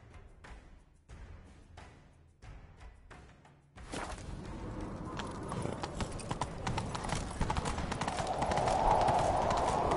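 Rapid clip-clop of a galloping horse in the video game The Witcher 3: Wild Hunt, loud and close, with rushing wind and music swelling behind it; a brief lighter stretch of hoofbeats comes first.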